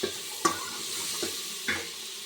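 Brinjal (vankaya) frying in a pan for vankaya pappu sambar, stirred in a few distinct scraping strokes over a soft, steady sizzle, close and fairly quiet with no talking.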